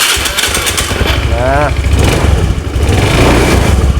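A fuel-injected motorcycle engine runs steadily on a newly fitted spark plug, a loud low rumble filling the whole stretch while someone talks briefly over it.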